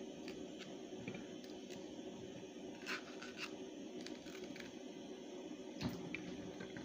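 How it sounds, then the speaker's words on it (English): Plantains being washed in water, faint close splashing and trickling with soft scrapes and occasional drips, steady throughout with no talking. "Make sure you wash it well"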